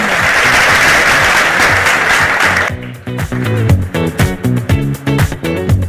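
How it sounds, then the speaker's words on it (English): Loud, dense applause from an awards ceremony crowd fills the first few seconds, then gives way to rhythmic music with a strong beat. "Let's have a huge round of applause for rising women"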